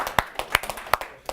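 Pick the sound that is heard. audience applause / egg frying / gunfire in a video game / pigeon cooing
audience applause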